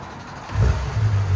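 A 2019 Porsche 911 GT3 RS with a muffler delete fires up with its exhaust valves closed, a short starter crank rising into a deep, close engine rumble that settles into idle.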